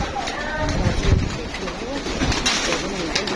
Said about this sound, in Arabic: تعالى بقى ناكل الحمام مع بعض